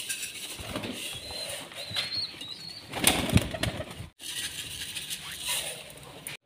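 Pigeons flap their wings in a flurry of soft, rapid fluttering bursts nearby while being fed millet, with a louder flapping rush in the middle and light background noise.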